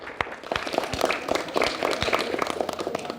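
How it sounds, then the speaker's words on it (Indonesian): A crowd at a school quiz competition in Palu, Indonesia, claps: a lively burst of many overlapping hand claps with distinct sharp individual slaps, close and continuous for a few seconds. "Baik, kita kasih tepuk tangan."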